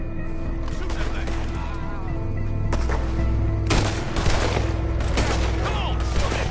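Gunfire in Red Dead Redemption 2, with rapid repeated shots and bursts crackling over a dense game soundscape, the firing thickening in the second half while voices talk over it.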